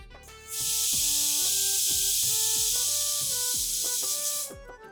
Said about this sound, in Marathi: कुकरला 2 शिट्ट्या झालेल्या आहेत.